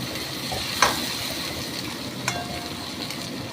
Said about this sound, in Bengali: একটু পেঁয়াজ রসুনটা ভাজা ভাজা হবে।